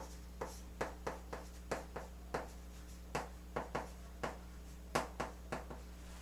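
A pen or pencil writes out an English grammar explanation by hand, giving quiet, close scratching strokes in a quick, irregular series over a steady low hum.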